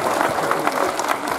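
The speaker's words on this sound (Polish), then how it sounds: "Serdecznie brawa." Short burst of audience applause at a youth tournament ceremony, clapping hands in a brisk, uneven patter with crowd murmur beneath.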